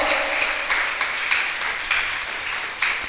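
Steady applause from a church congregation during a sermon, dense and sustained clapping with small surges, filling the room for a few seconds with no voices over it.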